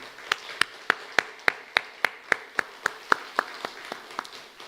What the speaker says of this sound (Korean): 우리나라를 오늘까지 지켜주신 하나님께 우리가 영광의 큰 박수 한번 올려드리면 좋겠습니다.